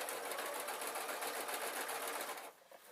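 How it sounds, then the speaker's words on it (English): A sewing machine stitches the corners of a fabric peg bag, a steady, close whirring with rapid needle clatter that runs evenly and then stops abruptly near the end, with no voices. "I'm going to definitely sew the corners, but I'm going to leave my gap in the middle"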